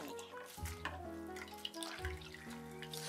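Tap water runs into a kitchen sink over dried radish peels, a quiet steady splashing flow with faint clinks and handling noises in the background.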